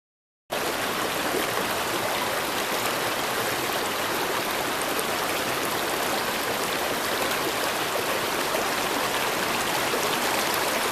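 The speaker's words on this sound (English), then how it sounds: "But first things first, got to get across the river." River on the Corbin Mountain Trail in Shenandoah National Park, a close, steady rushing flow of water that starts abruptly and continues without change.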